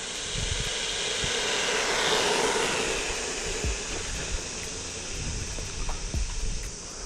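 Hosim X06 brushed 1/10 scale RC truck with a 390 brush motor driving at full throttle outdoors, a steady high-pitched motor whine with broad hiss and scattered bumps and rattles, moderately close and continuous without talk.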